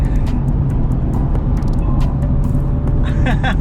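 A BMW M4 drives by at a car meet, its engine and road roar loud and steady throughout, with other cars in the background and people talking over it.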